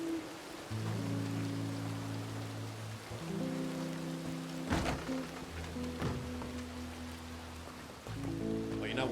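Steady rain falls on surfaces in the RedM roleplay game world, a constant hiss under tonal game music and a couple of brief thumps.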